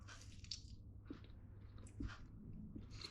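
Quiet, close chewing of air fryer banana bread, a few soft bites and moist mouth sounds spaced over a few seconds with no talking.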